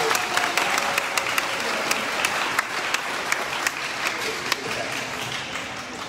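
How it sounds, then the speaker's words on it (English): Steady applause from an audience at a high school awards program honoring students, many hands clapping evenly with occasional louder individual claps cutting through the crowd sound. "All right, a round of applause for these students"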